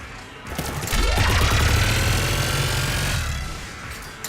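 Rapid sustained video game gunfire roars with a whooshing sweep and mechanical rumble, loud and continuous before tapering off near the end.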